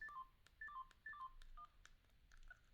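Keypad tones from a Siemens U15 mobile phone running Motorola firmware chirp in short, quiet triple-note bursts, each key press a quick descending pattern, repeated about four times at a steady pace with a few soft clicks between.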